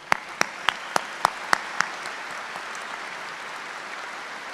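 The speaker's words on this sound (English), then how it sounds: "Give a round of applause." Graduates' families give a round of applause at a university graduation. A handful of sharp, close claps rings out over a soft, distant wash of clapping that thins out and fades away.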